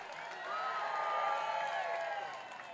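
A rally crowd cheering for Staten Island at a Save NYC outdoor gathering, a swelling wash of shouts and whoops that builds to a peak midway and fades slightly, moderately distant.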